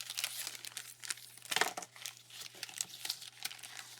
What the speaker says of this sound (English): So I cut off that sticky part of it.